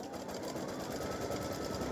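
A home embroidery machine stitches the underlay and then a green fill stitch for a bunny design on Easter peep fabric, a steady, continuous mechanical whir with a fast needle rhythm, close and unbroken throughout.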